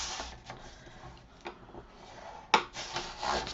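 Paper being scored on a scoreboard with a scoring tool for a frame album, a few dry scraping rubs close up with a sharper stroke near the end, no talking.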